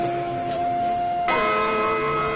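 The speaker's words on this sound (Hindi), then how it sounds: "कहीं एक साथ 25 ढोलक घड़ियों की टन-टन" About 25 old clocks chime and ring together, with sustained metallic tones layering over one another and a fresh strike joining in partway through.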